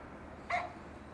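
A dog in a neighboring backyard gives a single short, faint bark at a distance.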